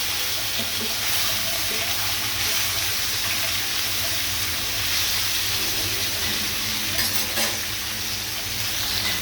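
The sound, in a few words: koi fish frying in a pan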